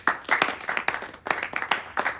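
Small film festival audience applauding itself, a sparse close clapping of a few hands in uneven bursts with brief lulls between, no speech over it.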